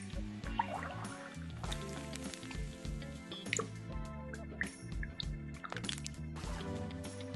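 Water dripping and pouring in a purified drinking water advert, wet drips and splashy filling sounds over a soft musical bed, fairly quiet and continuous without speech.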